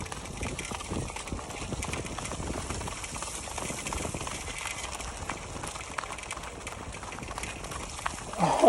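A border collie wearing boots runs on a salted street while pulling a street-joring rider, her steady rapid footfalls sounding like a galloping horse under outdoor wind noise, with no talk.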